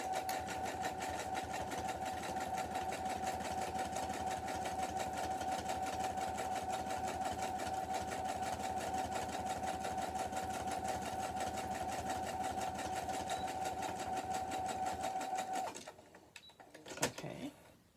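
Sewing machine stitching Velcro onto a fabric soap pocket, a steady, fast, close mechanical whir that runs evenly for about fifteen seconds before stopping, followed by a few faint handling clicks.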